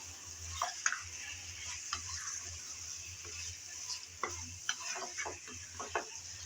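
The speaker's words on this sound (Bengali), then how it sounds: "চিকেনটা দিয়ে অনবরত নেড়েচেড়ে মিশিয়ে নিতে হবে" Chicken pieces stirred and fried in a pan give a faint, steady sizzle broken by soft scattered clicks and scrapes of a spatula, quiet and close with no talk.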